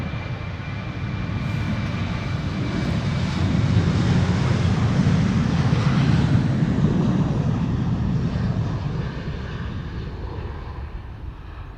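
A KLM aircraft operated by German Airways in a hybrid half German Airways, half BA livery departs Amsterdam Schiphol, its broad low jet roar swelling steadily to a peak and slowly easing away amid wind noise.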